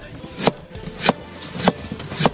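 A knife slicing freshly pulled radishes, four crisp, evenly spaced cuts landing sharply on a board about every half second against quiet background.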